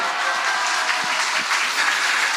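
A church congregation at a revival service applauds, a dense, steady wash of many hands clapping together from start to finish with no voices over it.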